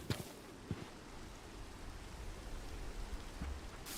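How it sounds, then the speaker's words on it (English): Steady soft rain hisses evenly in a Minecraft world rendered with shaders, a faint continuous wash with a few brief clicks and no talking. "Weather, rain."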